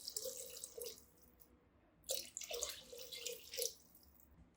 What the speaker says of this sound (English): Pour 800 milliliters of water.